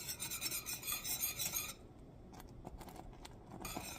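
Thick blueberry lemon sauce is stirred in a pan, a rhythmic rasping scrape of the spoon for nearly two seconds, then soft bubbling pops and clicks as the stirring pauses before scraping resumes.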